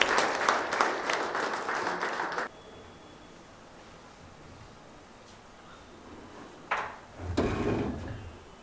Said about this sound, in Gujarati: એક સક્ષમ કલાકાર સનત વ્યાસને તાળીઓ જોઈએ